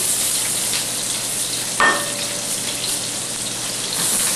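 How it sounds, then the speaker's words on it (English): Green pepper and onion sear in a hot pan with a loud, dense, continuous sizzle. A single brief clink of a utensil sounds about halfway through. "We're going to sear the vegetables to keep all the moisture inside the vegetables as much as possible."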